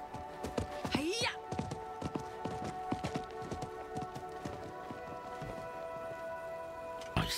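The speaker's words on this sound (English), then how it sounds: "I think that was the merchant's horse." A merchant's horse in the Diablo IV video game clops its hooves in a quick, irregular series of hoofbeats, with a brief rising neigh near the start, all over a sustained game music drone.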